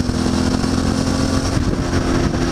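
Motorcycle with an aftermarket-style exhaust riding through a tunnel, a loud, continuous engine drone with a steady low throb that the enclosed space makes boom.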